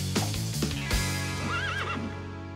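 A cartoon horse lets out a loud, wavering whinny, up close and backed by music, with a few hoof clops at the start.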